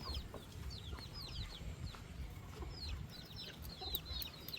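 Chickens on a rural farm where land is being plowed for corn give repeated short clucks and chirpy calls. The calls are scattered throughout at moderate distance over a low background rumble.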